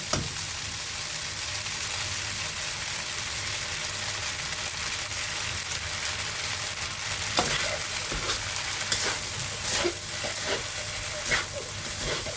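Singapore-style rice noodles stir-fry in a hot pan, a steady loud sizzle with scraping and clacking of the spatula tossing them, no talk.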